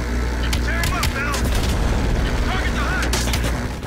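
Rockets fire in Call of Duty Black Ops Cold War as a series of booming launches and whooshing blasts over a steady engine-like rumble, loud and dense, with a voice talking over the combat.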